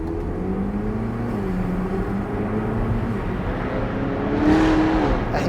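Engine of a 2026 Chevrolet Corvette C8 ZR1 rumbling steadily with a low, even drone and a brief rise in pitch near the end, heard close without talk.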